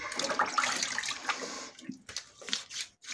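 Water splashes and trickles at a sink as a face is washed after a wet shave, giving irregular, close splashes with brief pauses.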